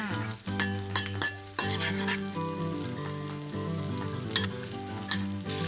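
Garlic and freshly fried homemade tofu sizzle steadily while being stir-fried in a hot pan, a continuous near crackle with occasional scraping stirs and no voices.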